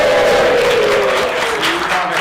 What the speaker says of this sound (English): Big cheer for Chaosium Con UK 2026.